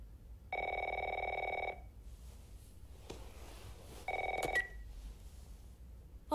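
A telephone rings in The Last of Us, two loud electronic bursts separated by a quiet pause, set against a dim, low background with a few faint clicks.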